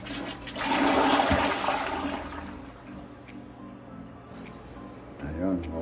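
A toilet fitted with a bidet flushes with a loud rushing gush that gradually fades into trickling and refilling water, with a voice briefly heard near the end.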